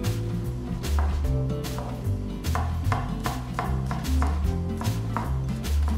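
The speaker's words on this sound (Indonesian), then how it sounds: "Kita juga bawang putih. Kita mau cincang. Geprek dulu." Garlic cloves crushed and then chopped with a knife on a board, giving repeated sharp knocks at an uneven pace over a low background hum.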